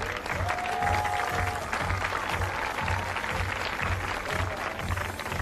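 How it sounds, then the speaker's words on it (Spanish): A live audience gives dense, sustained applause for a drummer in a band performance, loud and continuous with crowd noise mixed in. "Un fuerte aplauso para Pedro"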